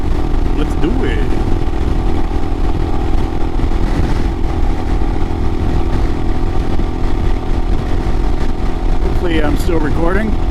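2022 Royal Enfield Himalayan with a Hitchcocks carburetor conversion on a commute ride: a steady, close engine drone mixed with wind runs unbroken throughout.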